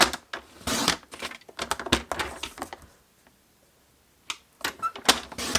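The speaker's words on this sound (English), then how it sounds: "I'm going to cut this piece down to the size I want it to be" Scissors or a trimmer cutting a piece of card down to size for handmade card making, a run of crisp close snips and clicks, a short pause, then more cuts.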